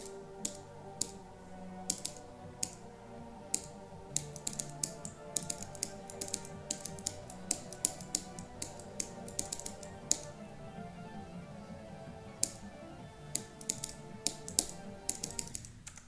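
Computer keyboard with sideways-swapped keycaps being pressed while playing Geometry Dash, sharp clicky taps in irregular bursts and rapid clusters at close range, with no voices.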